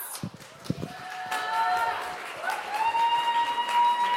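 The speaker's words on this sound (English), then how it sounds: "Let's give her a warm applause to Christina B. Jones." An audience applauds a speaker at a women in tech event, with steady clapping that fills the whole stretch, a sustained musical tone running through it and some voice above the crowd.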